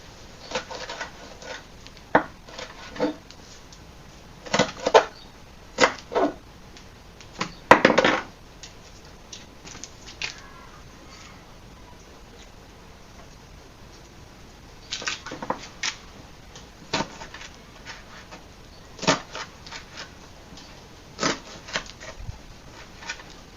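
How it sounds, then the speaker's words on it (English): Banana peels chopped into small pieces with a knife on a board, a scattering of sharp irregular cuts and taps, some in quick clusters, close and fairly quiet against a soft background. "So you chop them into small pieces like this."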